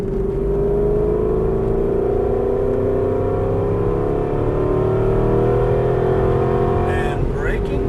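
An Aston Martin V8 Vantage's V8 engine accelerating on a race track, heard from inside as a loud, steady, rising drone that continues throughout. Speech from inside the car is present under the engine.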